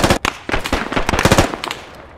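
Close gunfire in the Squad video game, a rapid burst of sharp, loud rifle shots crackling in quick succession before fading out.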